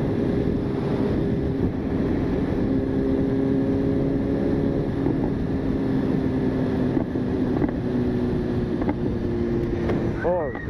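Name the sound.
BMW S1000RR motorcycle engine and exhaust popping while riding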